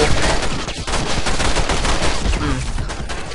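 Rapid, dense gunfire aimed at police in The Matrix: Path of Neo action game, loud overlapping bursts filling the whole stretch with no pause and no talk.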